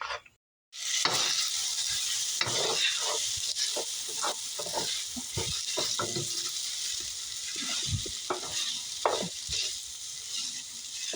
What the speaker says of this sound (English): I'm gonna turn the burner up, and I'm gonna throw the noodles in there and just get these nice and warmed up